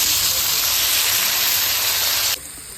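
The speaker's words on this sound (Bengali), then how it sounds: "ওই তেলেই দিয়ে দিচ্ছি কেটে রাখা আলু।" Cut potatoes fry in hot oil, giving a loud, dense sizzling hiss close by that cuts off abruptly near the end.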